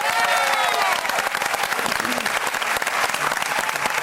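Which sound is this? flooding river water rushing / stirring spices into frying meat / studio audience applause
studio audience applause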